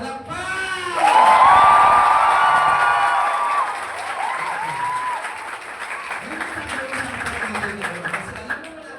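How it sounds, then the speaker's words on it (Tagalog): A seminar crowd breaks into loud hand clapping with cheers and shouts, then the applause thins into a steadier patter as voices continue over it. "Magagawin natin yung palakpak? Yes! Palakpak!"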